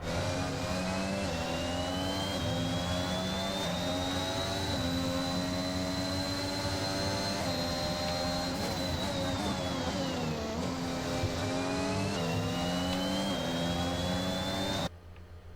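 A high-pitched Formula 1 car engine screams steadily from onboard during the 2021 Canadian Grand Prix, its pitch rising and falling with gear changes, loud and continuous, with no voices.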